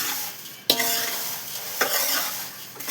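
Ingredients for chevdo roasting in a pan, with a constant sizzle and sharp scraping stirs of a spatula at intervals, heard up close with no one talking.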